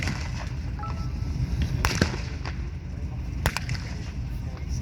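Gunfire at a WW2 battle reenactment at Tankfest 2021, scattered sharp cracks of rifle shots, a few standing out louder, over a constant outdoor rumble and crowd noise.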